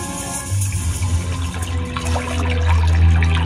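Steady rushing of the Metuje river flowing through the village of Velké Poříčí in Czechia, a continuous broadband wash with a low rumble that swells slightly louder toward the end, with no voices.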